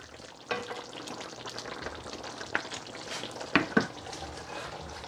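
Jamaican brown stew beef slow cooking in a pot, a soft steady sizzle and bubble with a few brief utensil clinks and scrapes against the pot.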